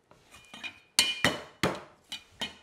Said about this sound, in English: And then we're gonna finely chop or roughly chop these ingredients. Very roughly chopped garlic.